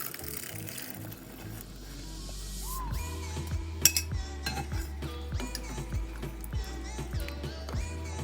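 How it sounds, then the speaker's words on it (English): Boiled black chickpeas tipped into a simmering pot, a series of metallic clinks and knocks of spoon against the pot over a low background hum, fairly close and moderately quiet. "Now I'm going to add the boiled chickpeas in here."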